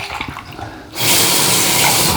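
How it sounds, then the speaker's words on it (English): Warm tap water gushing into a bathroom sink for a face wash before shaving, starting abruptly after a second of quiet and then running steady and close. "A bit of warm water on the face first."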